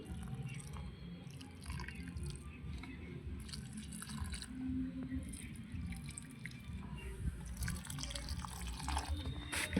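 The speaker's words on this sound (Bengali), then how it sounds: "এই যে এবার গাছগুলোর গোড়ায় যে সব জল দিয়ে দিচ্ছি।" Marigold plants on a rooftop garden are watered at their base, with soft splashing and dripping close by under faint background noise.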